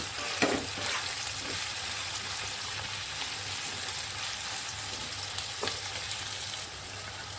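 Ginger frying in a pan for Bengali papaya malaikari, a soft, even sizzle with a few sharp stirring taps, fairly faint and steady throughout.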